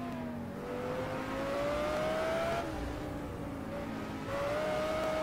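An Audi R8 LMS GT3 race car laps Oulton Park in the game Project Cars, its engine note holding a steady, loud whine that rises through the gears with brief shift dips.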